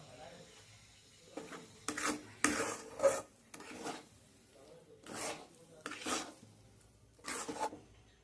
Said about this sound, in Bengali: মিডিয়াম ফ্লেমে দিয়ে নাড়াচাড়া করে নেব